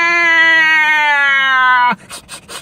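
A human voice imitates an annoyed cat, one long, steady, nasal yowl held for about two seconds, then cut off into a few quiet breathy sounds.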